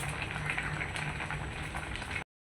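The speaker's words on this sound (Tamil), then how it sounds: "கொதிக்கட்டும் அரிசி வேகுது" Rice boiling in a pot on a home stove: a continuous close bubbling and rolling simmer that runs steadily and then cuts off abruptly.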